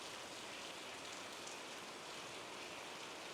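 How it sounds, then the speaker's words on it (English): Steady rain pouring over the Costa Rican jungle in Osa during rainy season, a dense, even hiss of drops on leaves and surfaces, constant and enveloping with no voices. "The sensation of the sound of the rain"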